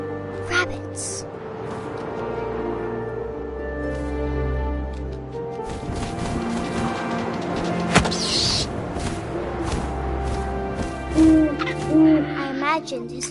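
Owl hooting in the video game What Remains of Edith Finch, repeated calls over a low ambient bed with wind and game sounds, with a voice talking over much of it.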